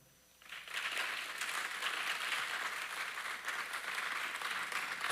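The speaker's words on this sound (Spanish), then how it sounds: "¿Le damos un aplauso a él?" A church congregation applauds during a Spanish-language sermon, the steady clapping starting after a brief silence and holding at an even, moderate level throughout.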